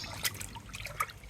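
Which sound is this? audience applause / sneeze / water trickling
water trickling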